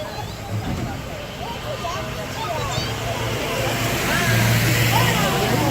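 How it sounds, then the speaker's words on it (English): A truck drives past on a zoo tour route in San Diego, a broad rumbling road noise that swells louder toward the end beneath steady nearby talking. "That's a yucky truck."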